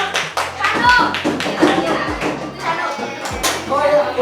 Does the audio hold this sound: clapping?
yes